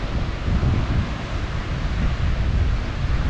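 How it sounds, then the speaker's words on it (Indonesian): Ocean waves and a cold wind at Kiama Blowhole on the coast: a loud, steady broadband roar of surf and wind buffeting with low rumble, continuous and close, with no voices. "Tenang dengan suara ombaknya, dengan desiran angin yang dingin"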